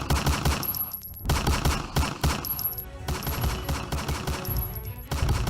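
Gunfire in a staged police standoff, rapid bursts of shots crackling in dense clusters across the whole stretch, loud and close with no talk.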